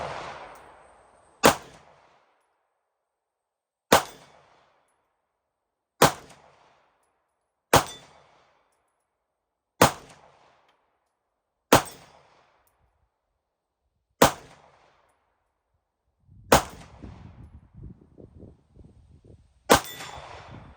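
Glock 47 pistol fired at a range toward a target about 25 yards off: nine loud, sharp single shots spaced a couple of seconds apart, each ringing briefly before fading into quiet.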